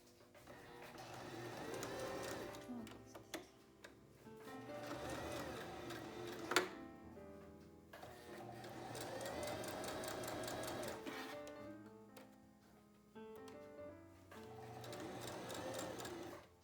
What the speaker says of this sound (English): you want to sew a straight stitch 1/4 of an inch away from the edge of the fabric all around